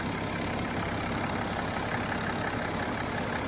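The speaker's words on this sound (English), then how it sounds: "So this is our straight 6 twin turbo, 315 PS, approximately 309 brake horsepower" BMW straight-six twin-turbo diesel, 315 PS, idling close by with a steady, even rumble and faint knocking clatter, unbroken and without voices.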